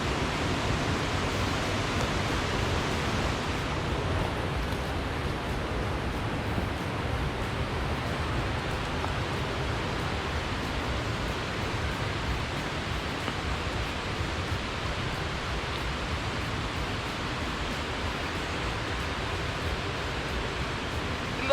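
Continuous broadband rushing of a forest stream flowing among rocks in hilly country, steady and fairly loud with no pauses or voices.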